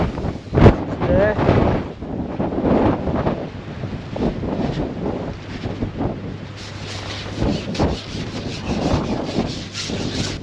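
Gusty wind buffets the microphone beside a fishing lake during pole fishing for barbel, a steady broadband rush with stronger surges, while a voice talks over it near the start.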